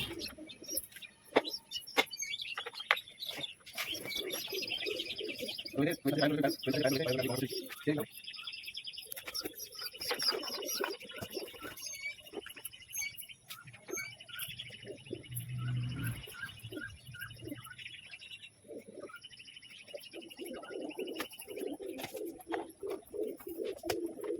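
Domestic pigeons coo and chirp in soft, repeated calls around a pigeon loft, with scattered twittering, fluttering and faint background noise throughout.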